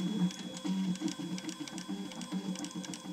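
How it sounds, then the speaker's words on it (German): A 3D printer steadily printing parts for a Liberator gun, its stepper motors whirring and buzzing in a continuous, close rhythmic hum with short repeated pulses and no voices. "mehreren Stunden druckt das Gerät die Einzelteile des Liberators"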